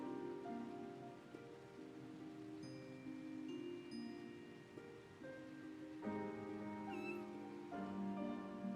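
A cat meows in the Final Fantasy XIV video game, sounding over a steady tonal musical score with soft rain-like texture, with no talking.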